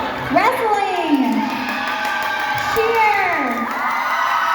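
High school students at a Cy-Fair pink-out pep rally cheer and whoop loudly, with two big swelling yells rising and falling as a team is called out, the packed crowd sustaining its roar between them.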